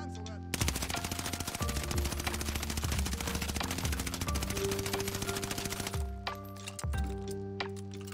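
An Automaton rifle in Warzone fires a long, rapid automatic burst of sharp, evenly spaced shots. After a brief pause, two shorter bursts follow. The gunfire is loud and close, with a faint voice underneath.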